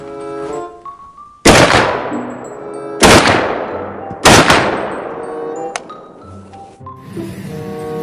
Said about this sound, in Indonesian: Wadidaw, tembakan sniper mini.